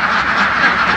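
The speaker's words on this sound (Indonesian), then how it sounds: "Ini bebek mulai bertelur ya" Umbaran laying ducks quacking as a dense flock, a continuous overlapping chatter of many birds close by with no clear pauses, heard on a duck farm.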